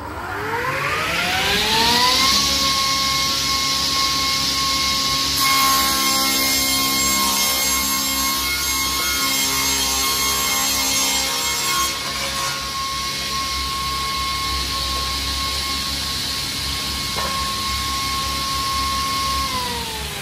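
A stationary saw with a blade cuts through wood, a loud, steady whine that holds a constant pitch for about twenty seconds, with a rising spin-up at the start and a winding-down at the end.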